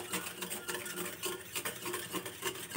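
Palm fruit paste being whisked with water in a bowl, a fast rhythmic swishing and clicking that continues steadily, close and without talk.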